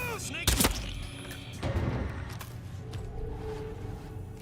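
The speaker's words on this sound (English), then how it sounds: "So get my gun out, shoot this guy." A couple of sharp gunshots in the video game Hitman, a loud crack near the start and another shortly after, followed by lingering reverberant game ambience.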